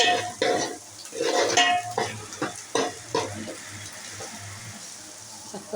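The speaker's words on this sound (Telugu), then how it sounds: "వేగిపోయినాయి అల్లం వెల్లుల్లి పేస్ట్ వేస్తున్నాను" Ginger garlic paste fries in a pan for a fish pulusu curry, a close sizzle broken up by uneven scraping stirs that grow quieter toward the end.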